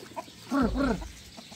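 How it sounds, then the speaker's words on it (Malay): Chickens cluck as they peck at chopped onion and carrot in a family garden plot, a loud close burst of throaty clucks lasting about half a second, with softer calls before and after. "Tu dia ayam. Spesialnya makan bawang dengan carrot."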